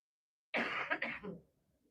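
A single harsh cough burst, close and fairly loud, lasting about a second before fading into quiet.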